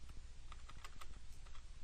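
Computer keyboard keys are tapped in a quick, irregular run of light clicks, faint under a steady background hiss, with no talking.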